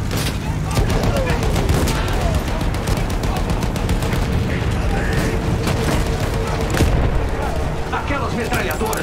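Machine gun fire in the World War I shooter Battlefield 1, a dense, continuous clatter of rapid bursts mixed with booming blasts, loud and close, with voices calling out over the battle.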